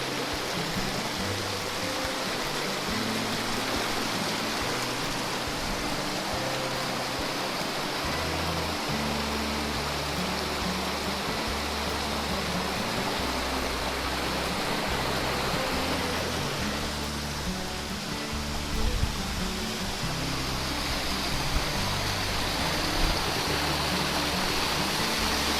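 Water rushes steadily down a waterfall and stream in the Cheaha Wilderness, a loud, dense, continuous hiss and roar close to the listener with no talking.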